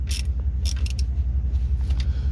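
Bolts on an FSWERKS torque mount are tightened with quick metallic ratchet clicks in short bursts over a steady low hum.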